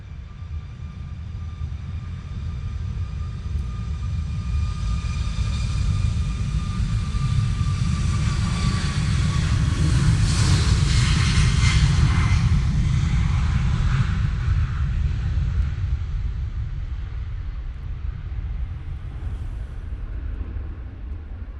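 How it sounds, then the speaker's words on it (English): IndiGo airliner arriving from Mumbai at wet, windy Manchester Airport, a long, steady jet roar that swells to a loud peak as it passes and then slowly fades, heard alone without talk. "next in will be the other Indigo coming in from Mumbai"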